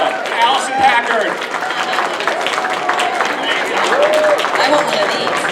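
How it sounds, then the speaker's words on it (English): Audience applause fills a Comic Con voice actor panel in San Diego, a steady wash of clapping from a large crowd that runs throughout with scattered cheers and voices mixed in. "Give yourself another round of applause."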